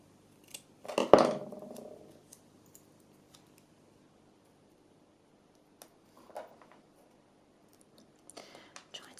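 A single close snip of scissors cutting a paper heart, followed by quiet small handling taps and rustles of paper in a calm, near-silent room.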